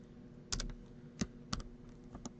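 Code is typed on a computer keyboard, with a handful of soft, close key taps in an uneven rhythm over a faint background hum.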